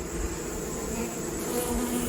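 Bees buzz in a dense, steady drone at an opened hive that has started going laying worker, close and continuous with no talk.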